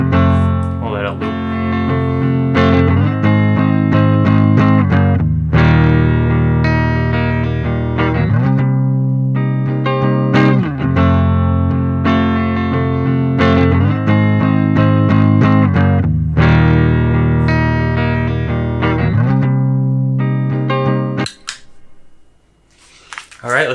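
Heavily distorted electric guitar loop played through a Digitech CabDryVR analog cab simulator, repeating chunky riffs with sustained chords, loud and steady, then cutting off near the end into a brief quieter tail.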